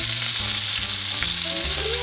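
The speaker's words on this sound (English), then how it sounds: "We're gonna stir fry that for just a minute." Ginger, garlic and jalapeno stir-fry in a very hot wok over a strong fire, a loud, dense sizzle running steadily throughout with low clanking and scraping of stirring underneath.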